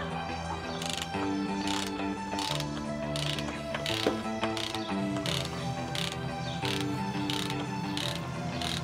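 A ratchet clicks in quick repeated strokes while loosening the clutch nut on a 1986 BMW K100 motorcycle held with a wood block, close and loud with a rhythmic mechanical pulse.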